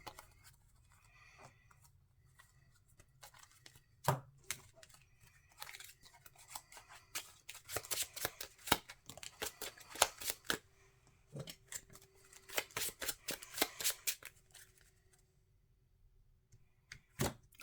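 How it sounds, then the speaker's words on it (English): Playing cards for the Marvel Champions card game are shuffled into a deck on a tabletop, making faint riffling and snapping bursts in quick clusters, quiet and close with no talking. "When this is defeated, I shuffle 3 cards into my deck."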